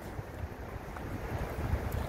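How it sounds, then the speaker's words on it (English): Strong outdoor wind buffets the microphone on a ridge, a steady low roaring rumble with gusty fluctuations throughout. "it's extremely windy, and I'm losing my hat."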